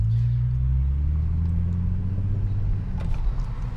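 Car fitted with a Speed Culture Studios custom exhaust accelerating hard, a loud, deep, steady engine drone that rises slightly in pitch and holds throughout, with no talk.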